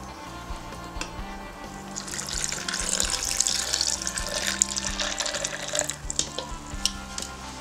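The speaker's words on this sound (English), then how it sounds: "Alright, so now we're gonna add the black tea." Hot black tea pours steadily into a container for a boba drink, a continuous soft splashing and trickling stream heard close up and fairly quiet, with no talking.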